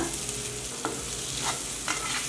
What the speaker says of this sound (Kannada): ಲೋ ಫ್ಲೇಮಲ್ಲಿ ಈ ಥರ ಫ್ರೈ ಮಾಡ್ಕೋಬೇಕು